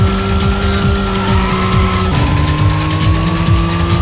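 A car engine revs steadily in the Racing Lagoon video game, its droning, shifting tone loud and continuous, with tire squeal and skidding mixed in across the whole stretch.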